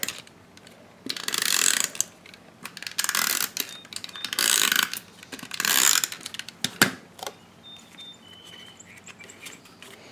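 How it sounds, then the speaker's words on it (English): A Stampin' Up! Snail adhesive tape runner clicks and ratchets in several short bursts as it lays tape to attach paper pieces. The sound is close and crisp, with brief quiet gaps between the strokes. "Let's go ahead with our snail here and start to attach these pieces."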